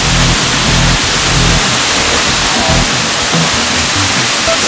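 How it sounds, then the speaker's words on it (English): Powerful, steady roar of rushing water pouring down nearby from behind a waterfall in Iceland, a dense continuous wash of noise with no pauses. "See how the waterfall gurges out."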